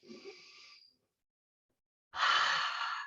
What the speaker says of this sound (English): Choose to focus within, take a breath.